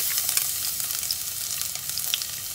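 Garlic frying in about two teaspoons of olive oil, a bright, steady crackling sizzle close up with scattered small pops and light stirring, no one talking.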